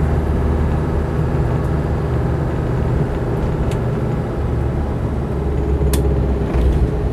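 Land Rover 90 with a 2.5-litre turbodiesel pulling away in third gear, a steady low diesel drone and road rumble heard from inside, constant and fairly loud, with a faint click or two over it.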